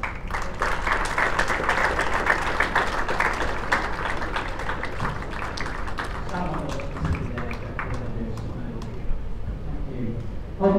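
An audience applauds a sponsor representative at a world under-25 singles qualifier, a loud, sustained clapping that thins toward the end, with a voice speaking over it.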